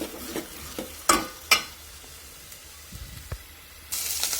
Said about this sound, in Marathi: चांगला मसाला परतून घ्यायचा तेल सुटेपर्यंत.